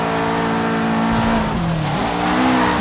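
A car drifts in Forza Horizon 3, its engine roaring loud and steady while the pitch dips and recovers through the slide, with a thin tire squeal over the top.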